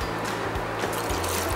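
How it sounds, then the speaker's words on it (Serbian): Hot water streams steadily into a pot of sour cabbage and meat, giving a continuous close liquid pouring and sloshing sound throughout. "I na kraju ću doliti vrelu vodu"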